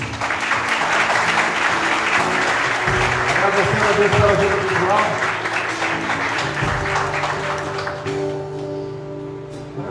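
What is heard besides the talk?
congregation applause in church service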